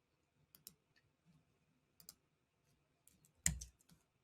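Sparse computer mouse clicks, a few single and double taps spaced irregularly with one louder click near the end, close and quiet in an otherwise silent room.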